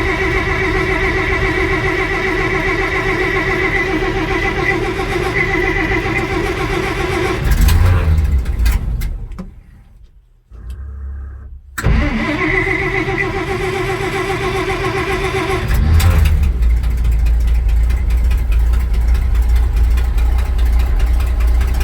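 A 1952 Dodge M37 truck engine idles loudly up close in a shop with a steady throb. It revs, cuts out briefly, then catches again and settles back into a rough idle with another rev, and no talking over it.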